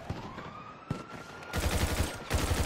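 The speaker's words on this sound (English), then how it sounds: "Someone's shooting at me." Gunshots in GTA 5 Online, a few scattered close shots followed by bursts of rapid gunfire, heard over a faint rising police siren in the background.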